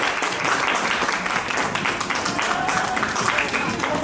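An audience applauding a young leukemia patient, steady dense clapping that fills the whole stretch at close range, with voices mixed in over it.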